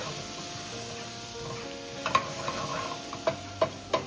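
Ginger garlic paste sizzles for sambhar while a spoon stirs it, adding a few sharp metallic taps against the pan near the end over a soft, constant frying hiss.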